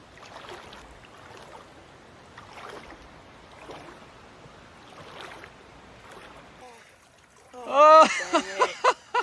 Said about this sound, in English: So now we're just straight up walking up the river, trying to get to that waterfall up there.